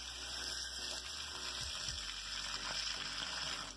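Water poured from a tap or jug into a bowl of roasted eggplants in a home kitchen, making a steady close-up gush and splash with a faint pump-like hum, and no talking.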